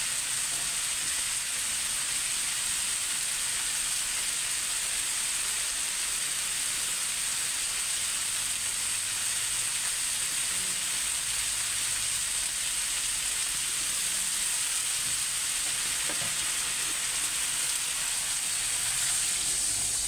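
Chicken in a pan for chicken and corn soup with gabi and pechay fills the air with a loud, steady hiss and sizzle as broth goes in, a constant rain-like crackle that carries on without a break.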